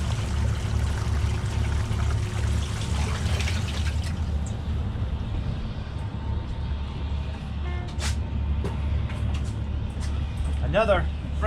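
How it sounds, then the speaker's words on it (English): Steady water rush and hum from the live well pump running aboard a 2015 Grady-White 307 Freedom boat, continuous and fairly loud throughout, with brief clicks and a short chirp near the end. "Let me turn on the live well for a minute."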